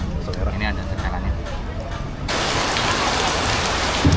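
Rain falls steadily at an eatery in Depok, a dense hiss that swells noticeably louder partway through, with voices murmuring underneath.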